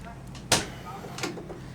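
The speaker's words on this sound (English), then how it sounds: "you can open these up and you can press on these little tabs there, the yellow tabs, and that opens the door up there to its 180-degree position." Rear barn doors of a 2017 Ford Transit Connect being opened, one sharp close mechanical clack followed by a softer latch knock about a second later, with someone speaking nearby.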